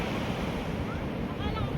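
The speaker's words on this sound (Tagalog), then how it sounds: "Maganda ngayon ang dagat. Hindi siya masyadong maalon." Gentle sea waves wash onto the shore on a calm day, a steady, close surf hiss mixed with wind buffeting the microphone, with faint voices beneath.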